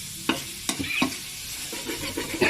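Pork and curry paste are stirred in a sizzling frying pan, with a steady fry hiss broken by several sharp scraping strokes of the utensil against the pan.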